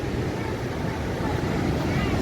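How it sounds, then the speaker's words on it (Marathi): River water rushes below the Morshi Dam, a steady broadband roar of flowing water mixed with heavy wind buffeting on the microphone, with no pause across the whole stretch. "इकडे अजून पूर्ण नदी वाहून राहिली पूर्ण पाणी"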